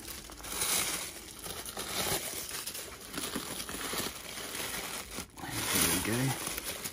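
Wrapping paper crumpling and crinkling as a pair of Crockett and Jones shoes is unboxed, with dense rustling throughout and a person talking over it.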